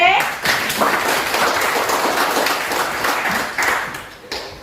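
Students applauding in a classroom, a burst of clapping that starts sharply, thins and swells again in uneven waves, with a few louder individual claps near the end.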